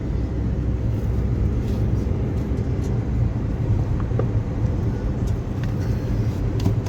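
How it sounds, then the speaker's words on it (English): Cars pass steadily along a road in Jaipur during a COVID lockdown, producing a constant mid-level wash of engine and tyre rumble with faint passing vehicles and no voices. "even it's locked down, there's still a lot of cars on the road"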